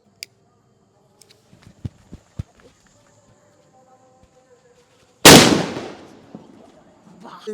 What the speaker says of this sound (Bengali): এই যে এবার করবো হলো বড় বম, আর এই বমের ধামাকা কেমন হয় দেখো